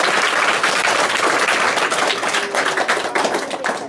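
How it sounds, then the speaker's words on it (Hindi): Children at a school Independence Day celebration clap together in a loud, dense burst of applause that lasts a few seconds. "सभी बच्चे एक बार उनकी खुशी में एक बार तालियां बजाएंगे।"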